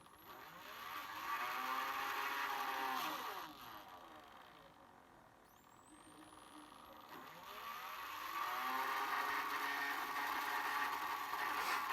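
A small DC motor whirs steadily under a PWM speed-control circuit, its pitch sliding down, dipping, then rising again as the speed is varied, with a faint electronic whine above.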